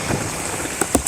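Rain falls steadily during a tropical storm outdoors, a soft continuous patter with a few sharper drops hitting close by near the end.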